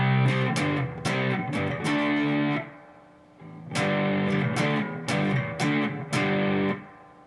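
Overdriven electric guitar plays a full verse riff at normal speed, clusters of chopped power-chord strums with a short pause between phrases, loud and alone.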